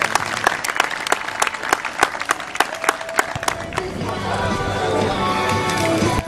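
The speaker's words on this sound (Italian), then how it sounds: "è finita ragazzi, grande applauso ai due finalisti, Filippo Meccoli e Jack Mariani." A crowd claps loudly for the two finalists at the close of the 2014 King of the Court final. Sharp, dense clapping with a few distinct strong claps fades into a broader, steady crowd roar.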